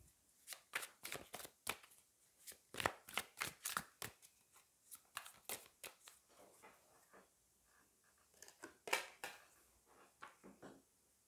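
Tarot cards are shuffled and drawn in a long run of quick, close, papery riffles and slaps, with a pause before a final burst and no talk.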